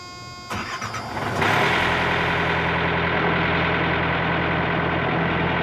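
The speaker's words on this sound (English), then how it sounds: "Oh, the engine's starting now, so we'll wait." A Thermo King refrigeration unit's engine cranks briefly, then catches and settles into a loud, steady diesel running drone, close to the microphone with no talking.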